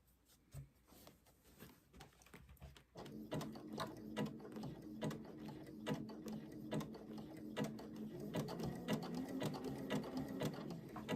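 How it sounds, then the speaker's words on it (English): A sewing machine runs a zigzag stitch across appliqué fabric, rapid rhythmic mechanical clicking that starts faint and settles into a steady, louder whirring patter close by. "you can see whether your needle is getting that zigzag stitch on both sides of it or not"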